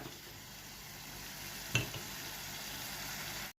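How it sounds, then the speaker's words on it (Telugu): Masala spice paste frying in oil in a pan for a raw banana kofta curry, a steady, quiet sizzle throughout with a single sharp knock of a utensil midway. "ఈ మసాలా బాగా వేగాలండి. నూనె వచ్చే వరకు, నూనె బయటకు వచ్చినంతసేపు వేగుతూ ఉండాలి."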